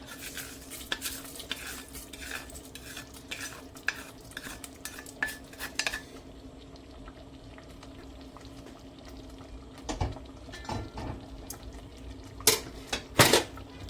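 A spoon scrapes and clinks against a metal pot in repeated stirring strokes over a low simmering bubble of cassava and coconut milk, ending with a few sharper knocks.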